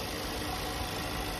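A new Buick Verano Pro GS with a four-cylinder engine idles smoothly after starting, a steady, even hum with no shudder and no voices.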